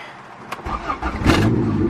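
A turbocharged Honda Integra with a B20V engine cranks and fires up, misfiring as it catches, then settles into a rough, uneven running rumble close by.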